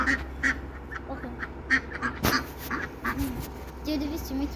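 Farmyard ducks quack in short, repeated nasal calls at moderate distance, scattered over a low rural background of village animals and faint noise.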